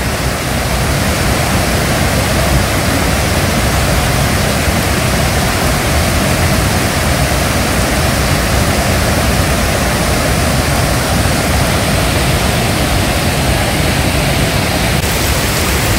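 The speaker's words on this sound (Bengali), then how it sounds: "একে বৃষ্টির আওয়াজ, তারপরে ওয়াটারফলসের আওয়াজ" Devkund waterfall roaring in a monsoon forest under heavy rain, a dense, loud, unbroken wash of falling water that stays steady and close from start to finish with no voices.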